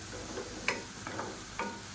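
Grated carrot with a tablespoon of moong dal sizzles softly in a pan while a spoon stirs it, giving three or four distinct scraping strokes over a low, steady fry, close and quiet with no talk.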